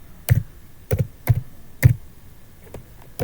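Python code being typed on a computer keyboard: five or six distinct, fairly loud keystrokes and taps spaced irregularly about half a second apart, close and alone.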